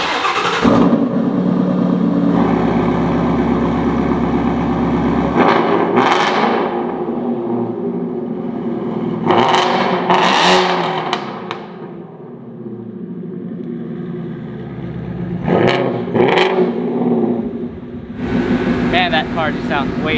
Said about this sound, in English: start the car up now, let y'all hear it